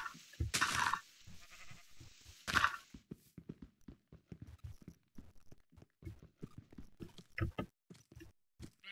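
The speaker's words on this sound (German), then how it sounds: "Da ist ein hellgraues Schaf," Sheep in the video game Minecraft bleat in two loud, bright bursts near the start, followed by a quieter run of short clicks and steps.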